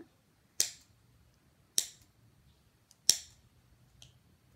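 Scissors make three sharp, separate snips spaced over a few seconds, with a fainter fourth click near the end, while cutting a squishy foam toy in a quiet room.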